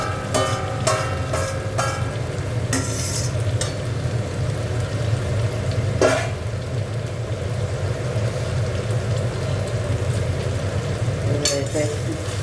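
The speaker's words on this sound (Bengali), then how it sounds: "এবার আলু ফুলকপিটা দিয়ে দিচ্ছি।" Potato and cauliflower sautéing in spice paste in a pan, a steady sizzle with the scrape and clink of a spoon stirring against the pot at intervals.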